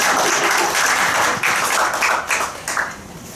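Congregation applause at a Thanksgiving Sunday church worship service welcoming a deacon to the front, a steady dense wash of many hands clapping throughout, loud and close, thinning slightly toward the end.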